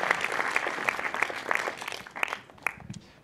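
Audience applause for a technician at a French film festival awards ceremony: brisk scattered clapping from a modest crowd that thins out and fades, leaving a few final isolated claps.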